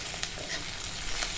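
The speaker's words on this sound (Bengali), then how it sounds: "এবারে এটাকে আবার একটু কষিয়ে নেব, রসুনের গন্ধ আর আদার কাঁচা ভাব চলে যাওয়া পর্যন্ত।" Garlic, ginger paste and chopped green chilli are sautéed in oil in a pan, giving a brief continuous sizzle with light stirring scrapes.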